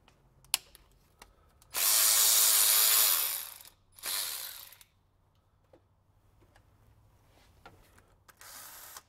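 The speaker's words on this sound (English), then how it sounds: "we'll go ahead and take the bolts loose" Tight cylinder head bolts on a 1996 Toyota 4Runner are worked loose with a socket and ratchet: scattered clicks, then two rapid whirring bursts of a power driver and more faint ratcheting afterward.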